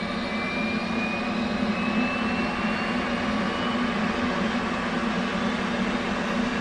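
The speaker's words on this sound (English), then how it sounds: "so we're now actually going to start up the APU. Here we go. So it's a mini jet engine that will generate power for us." The auxiliary power unit of an F/A-18 in DCS World spools up as a steady, loud jet whine and rumble with a rising high-pitched tone, constant throughout with no talk.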